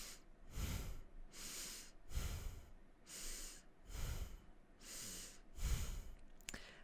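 Slow, deliberate breaths during kundalini yoga, close and audible, forming about six rhythmic in-and-out cycles with sharp nasal rushes and softer exhales between them, with no talking.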